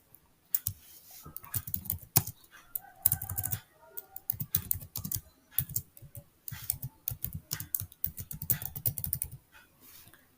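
Typing on a computer keyboard while entering details into an online form, close and clear bursts of rapid key clicks separated by short pauses, no voices.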